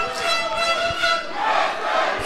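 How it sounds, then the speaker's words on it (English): Lucha libre arena crowd at a Mexican wrestling event chanting in unison, a loud, dense wall of voices rising and falling in rhythmic surges with no single speaker standing out. "Hear the crowd. Yes, hear the chant."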